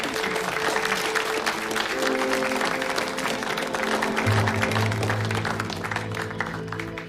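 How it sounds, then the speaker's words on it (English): Office staff in a movie scene break into steady, sustained applause, a dense patter of many hands clapping at once, with faint background tones running underneath. "So please, let's give a big round of applause to Miss ADA Winterbottom."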